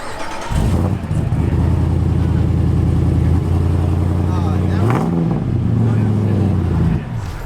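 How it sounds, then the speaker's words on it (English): Jeep Gladiator with a Hellephant V8 at the SEMA show starts up and idles with a deep, loud rumble, then revs up sharply and settles back, heard close with a crowd murmuring in the background. "I think Santa's willing to start it up for us too, so let's hear what this monster sounds like."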